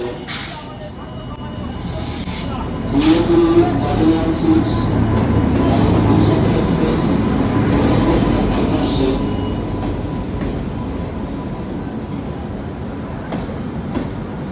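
A Humsafar Express train rolls into a station on its first run from Ranaghat to Jalpaiguri, a loud rumbling approach with a brief squeal and hiss under a busy crowd, and people talk nearby.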